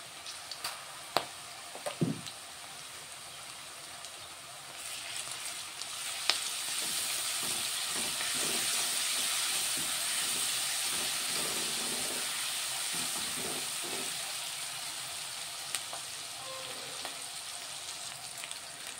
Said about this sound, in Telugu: ఉల్లిగడ్డ ఫ్రై అవుతుంది.